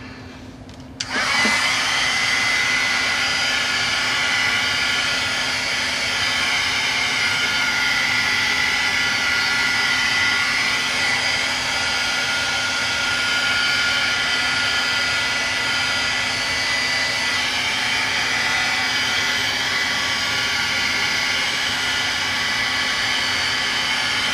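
A dryer starts abruptly after a brief click and then blows as a loud continuous whooshing roar, drying paint on a mixed media frame, held steady throughout with no voices.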